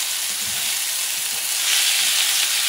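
Beef cubes sizzle steadily as they sauté in a pan, with soft stirring scrapes as the meat is mixed, making a continuous close frying hiss.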